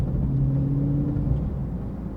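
Dodge Charger Scat Pack cruising with a steady low engine rumble and a sustained droning tone from inside the cabin, level and continuous with no voices.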